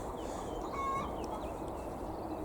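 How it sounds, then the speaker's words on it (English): Communal chickens on an allotment give a few faint, quiet clucks and short calls over a steady outdoor background hiss, heard at a distance. "Communal chickens there."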